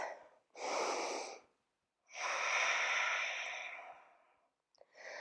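A person breathes deeply during a yoga stretch, with a long audible exhale, a pause, then a slow airy breath that swells and fades. The breaths are close and clear, with no talking.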